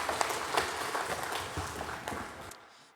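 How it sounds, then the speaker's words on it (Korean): A church congregation at a Wednesday worship service applauds together, a dense wash of clapping lasting a few seconds before fading out abruptly. "우리 하나님 아버지께 영광의 박수를 올려드립니다."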